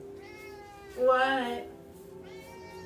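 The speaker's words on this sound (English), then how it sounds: "Oh, hold on. My cat wants out." A house cat meows at a door wanting to be let out, one clear rising-falling meow up close, with a voice speaking briefly before and after it.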